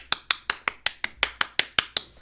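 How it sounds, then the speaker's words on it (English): Eleven sharp hand claps in a steady, even rhythm, close and crisp, with nothing else heard. "Let me just give him some claps, bro."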